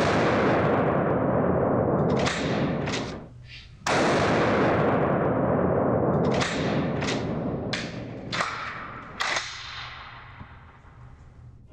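Shotgun fired with light sport shot cartridges: a series of sharp, loud blasts, several close together and then more spaced out, each followed by a ringing decay on an outdoor range.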